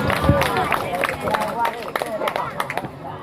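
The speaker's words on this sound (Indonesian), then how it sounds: "Nah, jawaban betul, tepuk tangan." Brief hand clapping from a small gathering at an Eid al-Adha celebration held in a home, rising amid lively chatter and voices, with scattered claps standing out over the talk.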